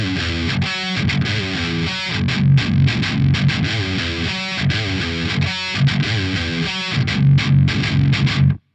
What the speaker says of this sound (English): Now check it out in single coil mode.